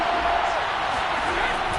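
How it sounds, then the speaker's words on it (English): A football crowd inside a domed stadium gives off a dense, steady roar that fills the whole stretch without a break. "The crowd here in the Dome making things difficult."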